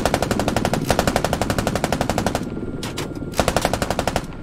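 Rapid, loud machine-gun fire from a door gunner aboard a Canadian CH-146 helicopter in Squad, sustained bursts of evenly spaced shots with a couple of brief pauses before the firing resumes.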